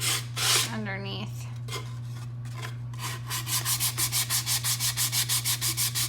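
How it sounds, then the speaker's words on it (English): Wooden paint sticks are sanded by hand, first with a few irregular scrapes and then settling into a fast, even back-and-forth rasping rhythm of about a dozen close, distinct strokes. "I don't think I've ever actually sanded these little paint sticks"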